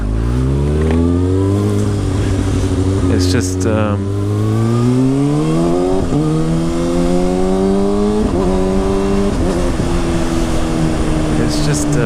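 A 2019 Kawasaki ZX-6R sport motorcycle engine revs up and down, its pitch climbing and dropping in smooth sweeps, loud and close, with a brief spoken remark.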